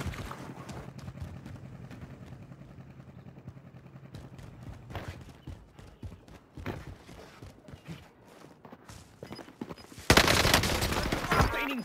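Gunfire on Rebirth Island in Call of Duty Warzone, scattered sharp shots and bursts building toward a loud, dense volley near the end, mixed with footsteps and movement noise.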